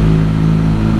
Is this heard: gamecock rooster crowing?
no